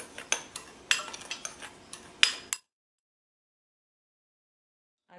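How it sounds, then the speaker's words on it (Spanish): A utensil clinks and scrapes in a bowl as cinnamon and sugar are mixed, a quick irregular run of light taps for a couple of seconds, then silence. "Que quede bien mezclada la canela con el azúcar."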